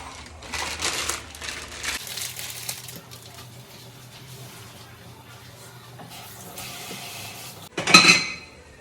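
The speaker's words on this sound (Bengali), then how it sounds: "ততক্ষণে কিছু বাসনগুলো তুলে রাখি ধুয়ে" Dishes being washed and put away, with clinks and clatter of pots and utensils, light crinkling and running handling noise, ending in a louder clanking burst of metalware close by.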